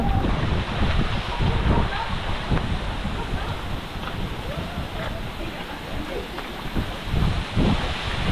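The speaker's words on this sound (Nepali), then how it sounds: "चट्टानबाट पानी आएछ यहाँ यस्तो माथिबाट झर्ना त्यो पनि धेरै ठुलै झरना हो" A large waterfall roars steadily and loudly, a dense rushing wash of water with gusty rumbles throughout.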